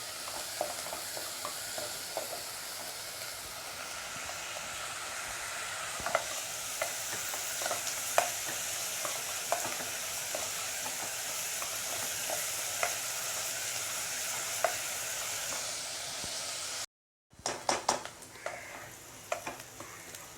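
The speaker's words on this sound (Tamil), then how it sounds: "இப்போ நம்மளோட ஆனியன் வந்து கொஞ்சம் வதங்கிடுச்சு." Onions sautéing in a pan for a Tamil-style prawn mustard curry, a steady close sizzle broken by frequent scrapes and clicks of stirring, cutting out briefly near the end before sizzling and stirring resume.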